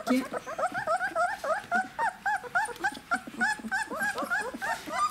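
Young puppies about 20 days old whimpering and yipping in a crate, a steady stream of high, wavering cries close by with short gaps, continuing throughout without any talk.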